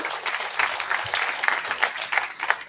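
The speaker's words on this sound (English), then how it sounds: "Give yourselves a round of applause." Comedy club audience applauding for a stand-up comedian, dense steady clapping filling the room for a few seconds at fairly strong level with no talk over it.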